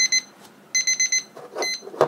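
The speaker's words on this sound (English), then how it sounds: "And my timer." A timer alarm rings in short repeated beeping bursts, two quick pulses then a longer run of four, loud and clear with no talk over it.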